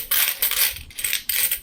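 Ten-rupee coins from the 2024 Kolkata mint clink and jingle inside a packet, bright metallic rattling in three quick bursts, loud and close with no voices.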